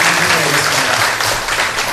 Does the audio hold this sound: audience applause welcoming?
yes